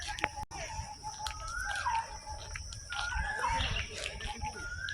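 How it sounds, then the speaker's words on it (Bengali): Rising whistled calls of a koel repeat several times at moderate distance in a botanical garden under a darkening pre-rain sky, set against a busy background of other birds and faint crowd noise. "এই সময়ে কোকিল ডাকছে,"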